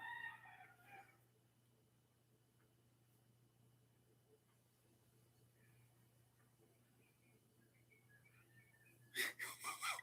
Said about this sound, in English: The roosters are like so far away and you can still hear them.